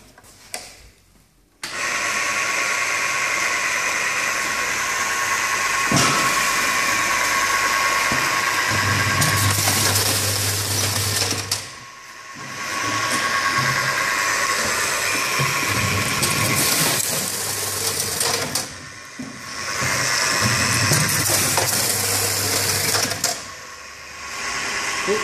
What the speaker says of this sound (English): So now we'll turn on our carton taper.